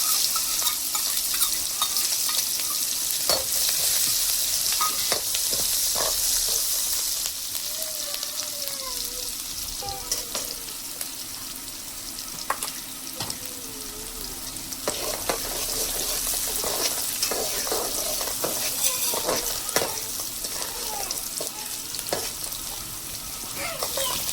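Green chilies sizzle in hot oil in a pan while being stirred, a continuous bright frying hiss broken by scraping clicks from the spoon, fairly close and steady throughout.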